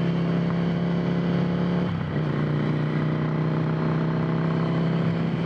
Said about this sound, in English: great acceleration out of this little engine.